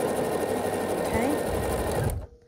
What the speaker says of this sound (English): then we're going to sew it together along this long side